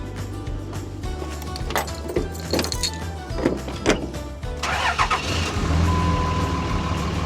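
A pickup truck engine idles after warming up, a steady low rumble with a few clicks and knocks and a brief rise in revs near the end, heard outdoors without talk.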